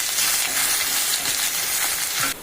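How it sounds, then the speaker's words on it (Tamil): Steady, dense sizzling of chopped garlic and ginger frying in hot oil, close up and continuous, with small crackles and pops throughout before it drops off abruptly near the end. "இப்போ எல்லாம் நல்லா பொரியட்டும்"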